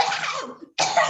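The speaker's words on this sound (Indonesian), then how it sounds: "Kok teman ada yang batuknya gitu." A person gives two harsh, close coughs separated by a brief pause, the first trailing off before the second bursts out sharply.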